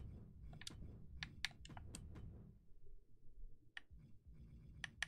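Someone types on a computer keyboard in short bursts of close, crisp key clicks, with a pause in the middle, over a quiet low background hum.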